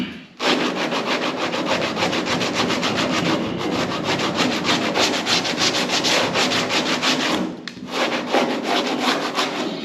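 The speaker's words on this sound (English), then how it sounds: "just go to town sanding on it like normal body work" Rapid, rhythmic scraping strokes of sandpaper rubbing car body work on a bumper and valance, close up and continuous, with one brief pause near the end.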